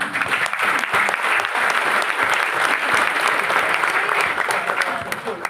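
An audience claps in a dense, sustained burst of applause that fills the room evenly from start to finish.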